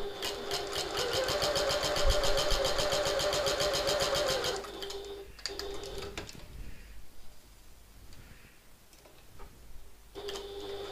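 Sewing machine top stitching along the long edges of a handbag strap, a steady rapid mechanical whir for several seconds, then brief stops and a short restart after a quiet pause.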